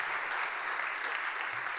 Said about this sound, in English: So a round of applause for the author of the teaser